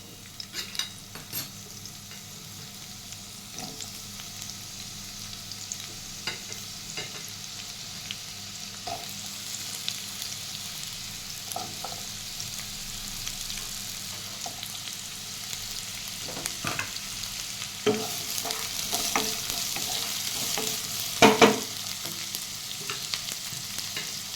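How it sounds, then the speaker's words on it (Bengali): Chopped onions sizzle and fry in hot oil in a pan, a steady close crackle that swells louder near the end, with occasional stirring scrapes and no talking. "তারপরে এর মধ্যে আমি প্রথমে যেটা অ্যাড করবো সেটা হচ্ছে পেঁয়াজ, কুচনো পেঁয়াজ"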